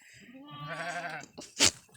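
A single sheep gives one drawn-out, quavering bleat close by, followed by a short sharp burst of noise.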